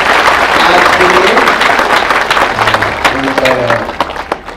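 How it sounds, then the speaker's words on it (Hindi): A crowd at a diocese gathering honouring a visiting papal envoy claps loudly together, a dense wash of hands that thins toward the end while voices talk and call out over it. "सब हम एक बार जोर से ताली बजा देंगे"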